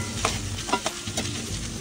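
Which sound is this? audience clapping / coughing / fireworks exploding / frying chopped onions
frying chopped onions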